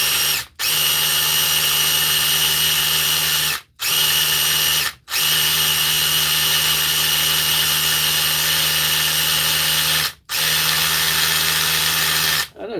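A DeWalt FlexVolt battery power tool hammers away loudly and continuously, its steady buzzing drone broken by four brief pauses where the trigger is released.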